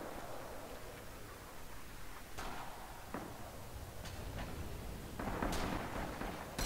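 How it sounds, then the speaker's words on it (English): Knee mortar rounds burst in the World War II shooter game Rising Storm, a handful of muffled, distant booms landing at irregular intervals over a low rumbling battlefield wash. "Wow, some great knee mortaring going on there."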